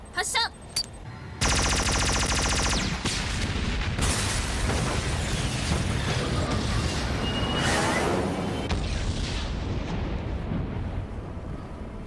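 Weapons fire from Chester Beta and Gamma aircraft in a Japanese Ultraman Nexus TV effects sequence: a dense, sustained roar of rapid shots and blasts, loud and continuous for several seconds, with brief bursts before it.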